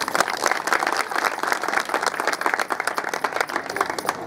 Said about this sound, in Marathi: एकदा स्वतःसाठी टाळ्या वाजवा.